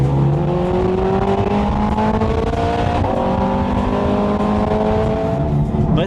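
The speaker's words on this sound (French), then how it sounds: "Un coup d'accélérateur là-bas" A red Ferrari's engine roars steadily at high revs on a track day, loud and sustained, with the pitch rising and shifting throughout and no pauses.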